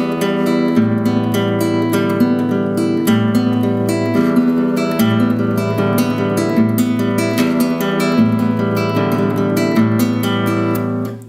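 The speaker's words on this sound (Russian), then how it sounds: "Играем сегодня только на открытых струнах, развиваем пальцы правой руки" Classical guitar right-hand finger exercise on open strings only, with a changing bass note: a steady, continuous stream of quick plucked notes over a repeating lower bass line, close and even, no talking.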